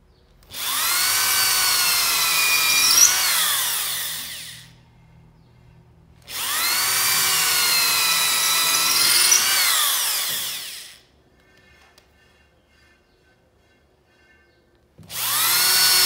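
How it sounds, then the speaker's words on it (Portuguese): An electric drill boring a hole whines at a high, steady pitch in two long runs of about four seconds each, separated by a quiet pause, with a third run starting at the end. "Põe a broca na onde você quer furar."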